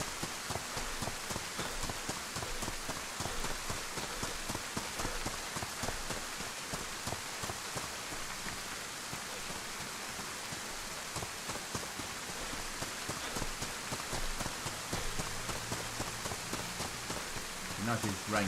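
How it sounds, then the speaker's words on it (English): Steady, dense rainfall pattering on surfaces in DayZ, constant throughout, with a faint clopping sound near the end. "Nice if rain stops soon."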